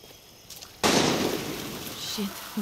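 Gunfire in the Far Cry 6 video game erupts suddenly as a loud, sharp crack followed by a lingering noisy wash and a few fainter pops.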